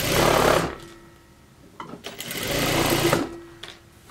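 A sewing machine stitching fabric at speed for a garment bodice, its motor whirring loud in two long runs separated by a brief lull with light handling noise, close up and with no talking.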